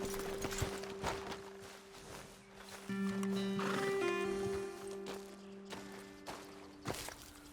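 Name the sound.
horses in the video game Red Dead Redemption 2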